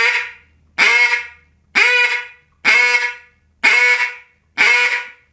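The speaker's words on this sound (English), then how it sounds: "Now when I back way off the pressure, I'm still not putting hot air, but at least it's getting some kind of ducky sound." A duck call blown with reduced air pressure gives six evenly spaced, nasal, honking quacks, loud and close, each a short buzzy note with a brief gap between.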